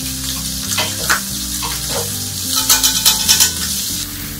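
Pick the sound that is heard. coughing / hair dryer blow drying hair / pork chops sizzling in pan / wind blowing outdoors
pork chops sizzling in pan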